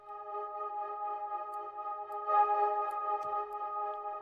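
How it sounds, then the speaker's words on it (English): A sustained, buzzy distorted tone from an old sample fed through a distortion effect holds steady throughout, with a slight swell in intensity near the middle and no voices. "So if I add distortion over here"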